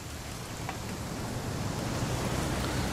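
Steady rain falls in the video game What Remains of Edith Finch, a dense, even hiss of drops on surfaces that holds at a constant level throughout with no voices.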